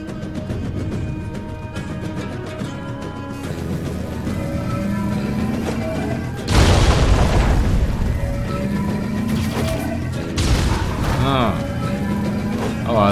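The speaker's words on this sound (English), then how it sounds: "I'm gonna stick with the machine gun." Machine gun fire in a shooter video game: two loud, dense bursts of rapid shots stand out against a busy game soundscape of music and effects, one starting midway through and a second a few seconds later.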